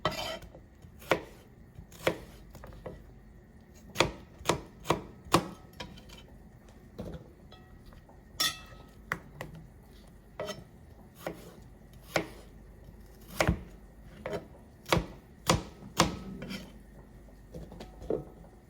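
A knife chops vegetables on a board for a bitter gourd salad, with irregular sharp taps clustered in quick bursts, fairly close and moderately loud, no talking.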